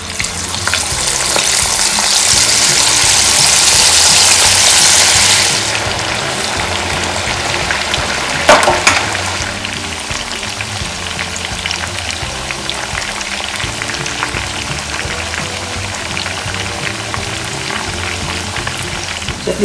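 Chicken tikka pieces frying in hot oil left from frying onions, a loud, steady sizzle that swells briefly then settles into a continuous crackling hiss, with an occasional clink and no voices.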